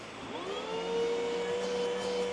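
A Makita 18V portable wet/dry shop vac runs on its lowest setting. The motor spins up to a steady, fairly quiet whine and holds there briefly, alone.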